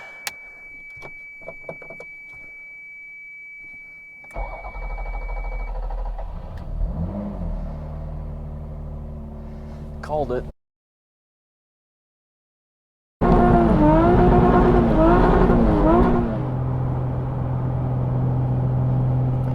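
Toyota Camry V6 engine swapped into a Toyota MR2, running on old gas: small clicks and key jangles, then the engine cranks and catches, settling into a steady idle with throttle blips, cutting out, then restarting and revving loudly.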